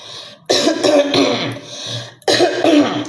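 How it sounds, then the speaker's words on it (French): A man with a cold coughs and clears his throat close up, two rough bursts about two seconds apart, each with raspy throat-clearing trailing off, no other talk. "j'ai pris un coup de froid dans le bloc, donc je tousse un peu"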